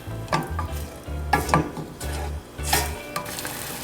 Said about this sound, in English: I'm going to give that a nice stir and then bring that back up to a boil.